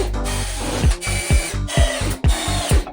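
A power drill bores into wood for a pizza shack frame, with loud, close, repeated motor whirs that rise and fall in short bursts, about one per half second, and no talk.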